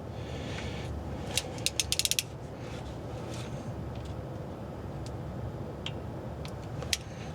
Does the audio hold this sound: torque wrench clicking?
yes